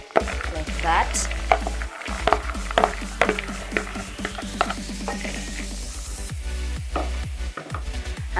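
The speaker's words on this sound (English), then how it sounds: "So now I'm going to roast my groundnuts." Groundnuts roasting in a pan, stirred with a utensil that scrapes and knocks against the metal in irregular strokes over a soft, continuous sizzle, close and fairly loud.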